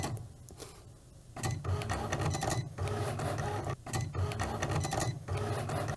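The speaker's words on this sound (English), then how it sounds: "now that the machine has done all of the cutting for me" A home cutting machine slicing iron-on material, making a close mechanical whir and buzz that runs in long sustained passes broken by brief pauses as the carriage shifts, with no talking.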